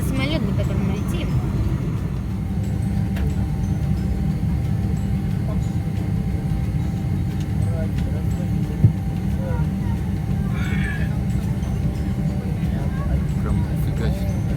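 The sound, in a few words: airplane cabin engine noise during flight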